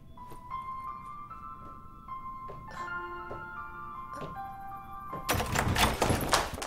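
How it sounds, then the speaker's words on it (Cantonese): Knocking on a door breaks in near the end as a few sharp, fairly loud thumps, after a quiet stretch of soft sustained tones with no talk. "敲門啊！"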